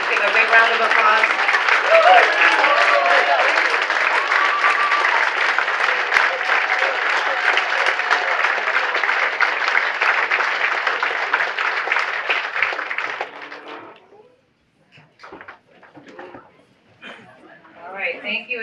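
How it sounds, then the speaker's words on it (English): Sustained applause from a crowd at a chamber of commerce appreciation dinner, loud and steady for about thirteen seconds before cutting off, followed by scattered quieter sounds and a brief resumption. "Give a big round of applause."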